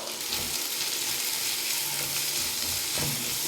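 Crushed ginger, garlic cloves and a green chili fry in a pan with vegetables, a dense constant sizzle with soft stirring scrapes throughout, loud and close.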